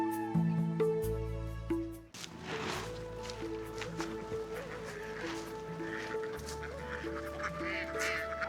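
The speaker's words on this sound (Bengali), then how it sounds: "এই যে দেখেন কত হাঁস এখানে" A large flock of domestic ducks, some 1800 birds, gathers beside a roadside on a flooded haor wetland along the Oshtogram all-weather road, giving continuous overlapping honking quacks throughout, loud and close, with no talking.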